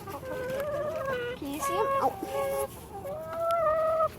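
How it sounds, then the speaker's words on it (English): Chickens cluck and murmur in a chicken house, with layered close calls and occasional sharper squawks, while a person speaks briefly among them. "So we're gonna go out and show you our chickens."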